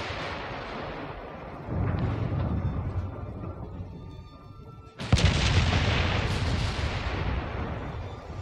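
Heavy naval guns fire in Ultimate Admiral Dreadnoughts, 10-inch main guns on an Italian battlecruiser, with rolling booms and a sharp loud blast midway, followed by sustained rumbling battle noise.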